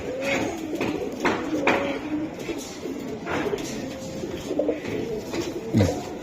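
Giribaz pigeons for sale coo in low, rolling bursts, several birds calling over steady background noise with occasional sharper sounds nearby.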